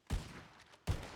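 Two sharp gunshots in a video game, about three-quarters of a second apart, each a loud punchy blast with a short ringing tail, no voices between them.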